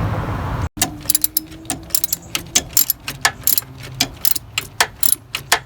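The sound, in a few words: ratchet turning timing belt adjustment bolt, Toyota Camry V6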